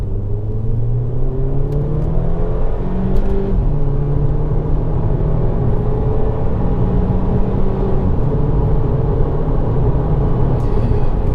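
A VW Golf GTI MK5 pulls hard in second gear under manual mode onto a bypass, its engine note climbing steadily as a loud, continuous in-cabin drone with no talk over it.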